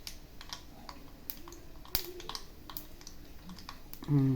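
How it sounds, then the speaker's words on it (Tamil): Sharp, irregular crackles and pops of mustard seeds sputtering in hot oil, faint, with a brief voice at the very end. "இப்போ தான் சத்தம் வருதுங்க, கடுகு பொரியிட்டு."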